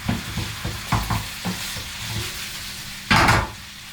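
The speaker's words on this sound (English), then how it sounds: "We're just going to turn it in there so the fish coats just a little bit with that sauce" Fish stir-frying in black pepper sauce, a close wet sizzle with repeated spatula scrapes and turns, ending in a louder surge of hissing, no talk.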